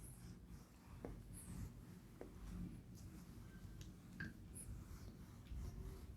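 Someone writes a note during a lecture on dimensional analysis, producing faint, soft scratching strokes against a steady low background hum.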